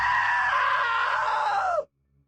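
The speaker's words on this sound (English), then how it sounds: "Now that was a great scream." A loud, drawn-out scream from a character in the video game What Remains of Edith Finch, sustained for nearly two seconds and then cutting off abruptly into silence.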